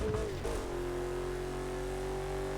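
A car engine in the video game Burnout Paradise City Remastered revs up sharply, then settles into a loud, steady drone with no talking.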